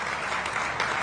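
Brief crowd applause greets a chief minister at a public event in Vidarbha, a dense wash of clapping lasting about a second, moderately loud with no speech over it.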